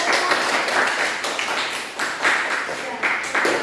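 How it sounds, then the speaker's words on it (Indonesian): Classroom applause for a student group that has just finished presenting, a steady patter of clapping hands with bursts of tapping, running under faint voices for the whole stretch. "Beri aplaus untuk ya"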